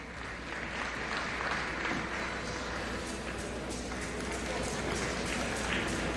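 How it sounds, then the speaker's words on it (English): Polite, steady applause from a crowd at the 2002 World Gymnastics Championships apparatus finals, a dense even patter of many hands clapping through the whole stretch, moderately distant in a large arena. "Polite applause from the crowd."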